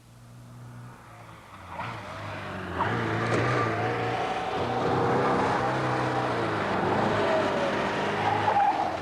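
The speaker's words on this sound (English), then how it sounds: "This car gets its energy from petrol." A petrol car drives with a rising engine note and tire noise, loud and close, building after a quieter start and holding steady to the end, no voices.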